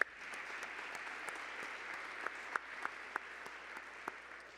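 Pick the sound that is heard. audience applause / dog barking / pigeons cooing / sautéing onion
audience applause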